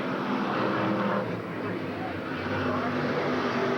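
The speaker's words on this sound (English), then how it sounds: "What a battle for first and second. Brew in car number 33, Halsey in 56." Race cars at Eugene Speedway in 1987 roar past in a loud, steady blur of engine noise, with the dense drone filling the whole stretch without a break.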